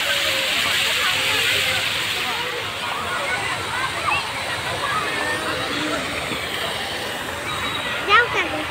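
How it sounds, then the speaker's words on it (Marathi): Flowing water at Goda Park in Nashik, a steady outdoor rush and slosh running continuously at close range, with people talking over it and a brief louder bump near the end. "इकडे जात आहे पाणी."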